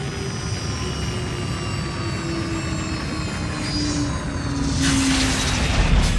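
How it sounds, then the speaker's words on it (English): Rocket engines of an arriving spaceship in a radio drama sound effect, a loud sustained roaring rumble with high whining tones that swells into a harsh hissing blast near the end. "Those are rocket engines."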